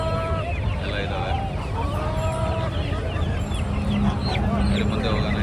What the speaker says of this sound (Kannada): ಬಾತ್ ಕೋಳಿ ಮರಿಗಳು, ಟರ್ಕಿ ಕೋಳಿಗಳು ಮತ್ತು ಗಿಣಿ ಕೋಳಿಗಳು ಎಲ್ಲ ಇದ್ದಾವೆ.